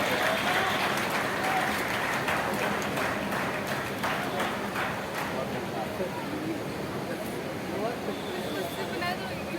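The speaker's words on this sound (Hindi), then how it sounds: "जोरदार ताली बजाइए इस बच्ची के प्रदर्शन के लिए।" Loud, sustained applause fills the hall at a school awards ceremony, steady clapping from a large audience for a young girl's dance performance, with crowd murmur underneath.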